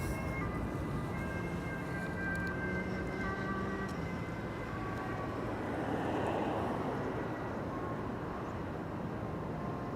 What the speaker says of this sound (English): that's an ambulance on the highway